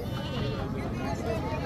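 Goats bleat among a crowd at a livestock market, the calls blending into a dense layer of people talking nearby.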